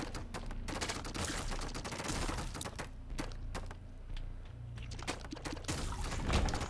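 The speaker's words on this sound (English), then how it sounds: "I'm just gonna put a bomb in there." Explosions and crunching bursts in The Binding of Isaac: Afterbirth+ game play, heavy booming, crackling blasts over game music, loud and continuous for several seconds.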